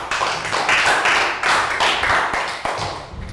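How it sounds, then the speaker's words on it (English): A class of young pupils gives a round of applause for a classmate in a Year 3 maths lesson, a brief burst of close, uneven hand claps lasting a few seconds. "Round of applause for Lakgow."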